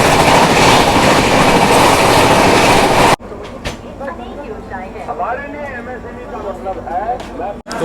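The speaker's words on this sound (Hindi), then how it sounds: "गाड़ी डिपार्ट कर चुकी है।" The Dr. Ambedkar Nagar Express, running from Yesvantpur via Nanded, pulls away with a loud, close rumble and rattle. After about three seconds it drops to a softer, muffled running sound with voices talking in the background.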